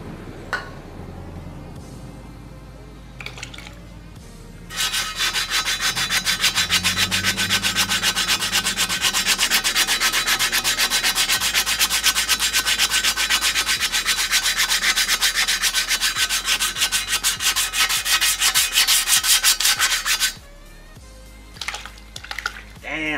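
Loud, steady scrubbing of rust from aftermarket wheels using WD-40 or Purple Power, a continuous rubbing, sanding-like rasp running about fifteen seconds, framed by quieter handling noise and brief talk before and after.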